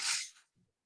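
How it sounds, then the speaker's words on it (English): Tissue paper gives a short, bright rustling crinkle, close and fairly loud, then fades into near silence with a faint low rustle after it. "This is tissue paper. Listen to the sound."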